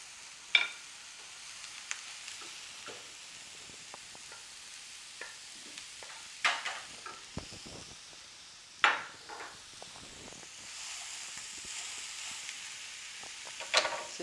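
Onion, garlic, carrots and cabbage cook in a pan without oil, giving a faint soft sizzle broken by a few sharp scrapes and knocks of a spoon against the pan.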